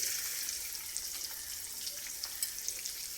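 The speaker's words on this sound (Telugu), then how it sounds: "వేగింది, ఉల్లిపాయ వేసేది." Onion fries in hot oil with turmeric for a potato fry, a soft, even hiss with a few faint crackles throughout and no talking.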